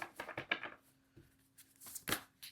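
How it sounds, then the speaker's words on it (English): Oracle cards from Crystal Spirits and Animal Spirit decks being shuffled by hand, heard as quiet, close bursts of papery riffling and slapping separated by short pauses. "I just was trying to shuffle y'all up."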